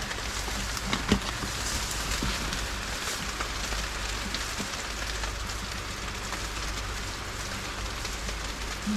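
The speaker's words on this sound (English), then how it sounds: "here comes the hail" Hail falls steadily outside a shelter, a dense, even pattering that holds at the same loudness throughout with no talking.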